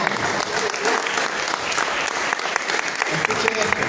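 Congregation applauding in a church service, dense sustained clapping from many hands throughout, loud and steady with a crowd murmur underneath.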